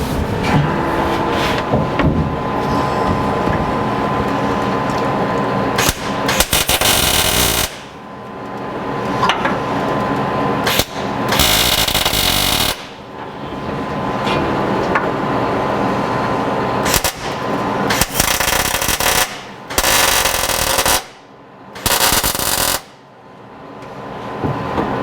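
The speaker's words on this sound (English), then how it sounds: "We're going to use a MIG welder, and we're going to do that now." A MIG welder joins nuts to the back of a 1964 C10 pickup's firewall, a loud, steady crackling buzz in long bursts separated by brief pauses, with a few sharp knocks.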